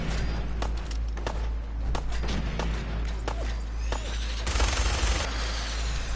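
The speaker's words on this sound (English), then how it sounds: "And I got a minigun. You see the damage that just did?" Minigun firing in the Fallout 4 video game, a rapid run of heavy shots with thuds, ending in a louder dense burst of fire near the end, close and without talk.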